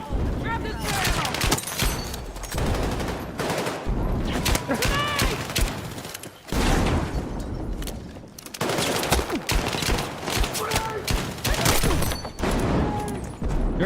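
Dense gunfire in a military shooter video game, with rapid automatic bursts and heavy impacts crackling almost nonstop at close range while a player and in-game voices talk through it.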